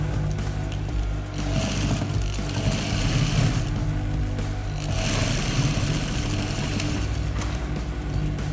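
Sewing machine stitching a triangular back dart on a long pencil skirt, a steady close mechanical whir running continuously with slight pulses in speed.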